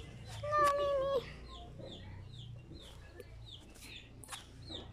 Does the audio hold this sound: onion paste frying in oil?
no